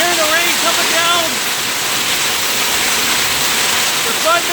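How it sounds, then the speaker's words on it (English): Heavy rain from a thunderstorm pours down steadily outside a deck near a lake shore, a loud continuous hiss with a voice speaking briefly over it. "You can hear the rain coming down."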